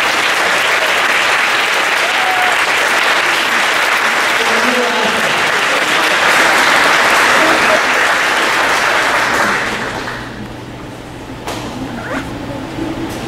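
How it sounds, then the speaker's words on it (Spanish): Loud, dense audience applause at a youth symphony concert in Reynosa, Tamaulipas, filling the hall steadily before fading to a lighter patter near the end. "Recibamos ahora con un aplauso al maestro Enrique Barros"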